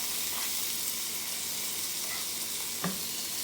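Onions sizzle in a frying pan with garlic for salmon fried rice, a steady dense hiss of frying with a faint stir or scrape near the end, no talking.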